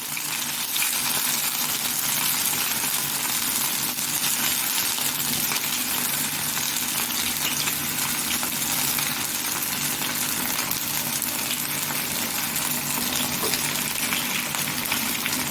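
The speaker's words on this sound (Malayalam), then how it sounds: "അപ്പോൾ നമുക്ക് ഓരോന്നോരോന്നായിട്ട് എണ്ണയ്ക്കകത്ത് ഇടാം." Masala idli pieces fry in hot oil over a low gas flame, giving a steady, dense crackling sizzle that holds unbroken and fairly loud throughout.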